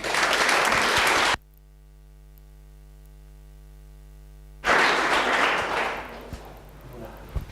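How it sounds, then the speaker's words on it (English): An audience at a learning session bursts into applause, then an abrupt stretch of steady electrical hum cuts in before the dense, broadband clapping returns and slowly tapers off. "So let's give them a round of applause."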